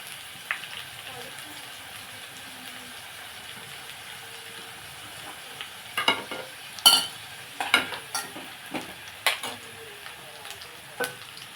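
Vegetables frying in a pan for a curry of okra or raw banana, with a faint steady sizzle under scattered louder clicks and scrapes of stirring, mostly quiet and close.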